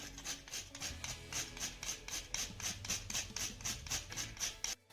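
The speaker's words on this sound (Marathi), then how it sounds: "त्यानंतर थोडंसं जायफळ यामध्ये आपण किसून घालूया" Whole nutmeg is grated by hand into a cooling wheat drink, giving a steady run of quick, close rasping strokes that continue evenly for several seconds with no talking.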